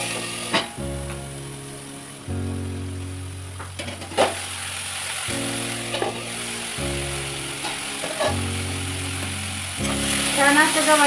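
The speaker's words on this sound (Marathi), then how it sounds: "छान असं गवारी तेलामध्ये भाजून घ्यायची आहे." Cluster beans and onion fry in hot oil in a pan, a soft continuous sizzle with occasional stirring clatter under a steady, tonal background.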